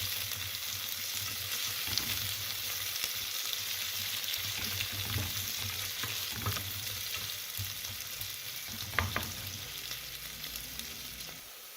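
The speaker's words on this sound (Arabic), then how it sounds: "يتم التحريك بشكل جيد حتى يذبل معنا البصل." Sliced onions frying and being stirred in a pot while cooking maqluba, giving a steady close sizzle with occasional scraping clicks from the stirring, no voices.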